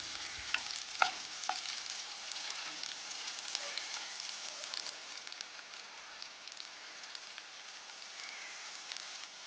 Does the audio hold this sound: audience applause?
no